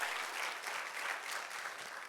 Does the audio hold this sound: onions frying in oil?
no